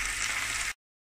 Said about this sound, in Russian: Соединяем мясо с луком и обжариваем до прозрачности лука.